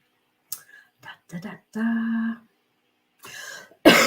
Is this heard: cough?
yes